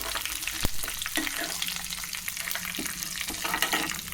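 Sesame seeds dropped into hot oil for frying crackle and sizzle steadily, a dense close hiss with small pops and a brief clink of utensil, no talking.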